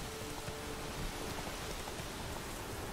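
Steady rain in The Witcher video game hisses evenly, a dense wash of patter with no voices, constant and moderately loud throughout.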